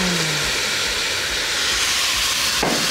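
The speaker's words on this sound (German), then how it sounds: "Jetzt löschen wir das noch ein bisschen ab. Das schönste Geräusch neben Eiswürfel im Whiskyglas." Liquid poured into a hot pan while cooking stuffed peppers sets off a loud, steady sizzling hiss of steam that fills the whole stretch close up, with no talking.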